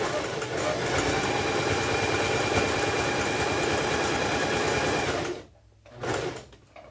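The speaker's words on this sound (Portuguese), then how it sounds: "Isso aqui é para rebater costura, tá?" A sewing machine topstitches a seam on denim with a fast, steady mechanical whir and chatter, loud and close. It then stops, leaving a brief lull followed by a short handling noise.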